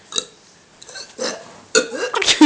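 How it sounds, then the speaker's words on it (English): A person burps and sneezes at once, a few short throaty bursts with breathy gasps, close to the mic, with other voices reacting around it. "Burp and sneeze at the same time."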